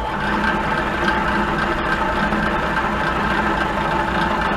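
Milling machine arbor spinning at a steady speed with a right angle attachment fitted, giving an even, continuous mechanical hum and whir at close range, with no talk.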